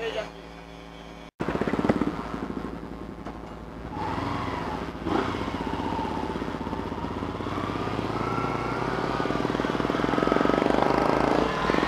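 A motorcycle engine with a freshly patched tire runs steadily nearby at a tire repair shop, its pitch rising gradually as it revs up and pulls away, with voices talking over it.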